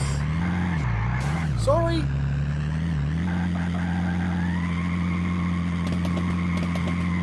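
Car engine droning steadily through a drift in the racing game Drifting Kings, with pitch swooping and sustained revving throughout while someone talks over it.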